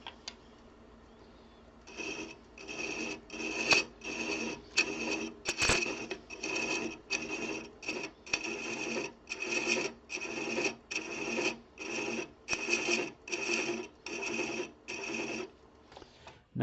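Wooden threads are hand chased on a lathe, a rapid series of about twenty rhythmic rasping scrapes in even strokes after a brief quiet start, close and steady, with no talking.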